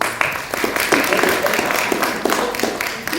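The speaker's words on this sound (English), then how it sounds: "Okay, we're going to clap again." Students in a classroom clap together in rhythmic bursts, a steady run of group claps repeating several times at close range, with a busy crowd murmur underneath.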